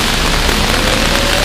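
Steady rain falls on a Sapporo street, a loud, dense, even hiss close by with no breaks and no voices.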